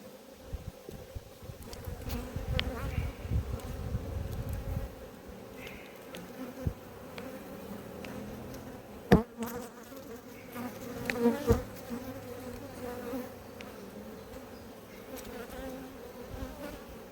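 Honeybees at an apiary hive, a dense steady buzzing swarm close by, with occasional knocks and handling thuds of the hive frames breaking through the hum.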